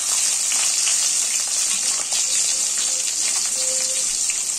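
Chopped tomato tipped into whole spices frying in oil in a pan for a Bengali potol and moong dal dish, giving a steady loud sizzle and hiss that runs throughout.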